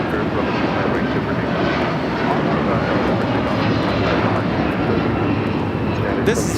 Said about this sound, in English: This is United Airlines 2728 taking off to Newark on the 757-200.